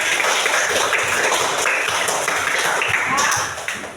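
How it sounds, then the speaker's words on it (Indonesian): A classroom of students claps hands together in a brief burst of dense, close applause that fades out near the end. "Oke, tepuk tangan untuk kita semua."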